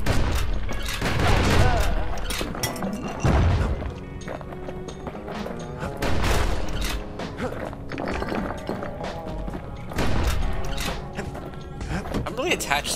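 A shotgun fires in the Bastion action game, heavy booms at irregular intervals among impacts, footsteps and clatter, with music and a narrator's voice running underneath.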